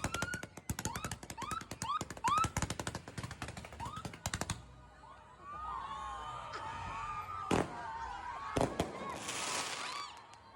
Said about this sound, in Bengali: এই যে তারাবাজি আতশবাজি এইসবগুলা নিয়ে আসছে এগুলা করছে